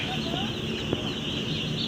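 Three-day-old chicks on a poultry farm, kept on rice-husk bedding, peep in a constant high-pitched chorus of many birds close by, with a few individual cheeps standing out.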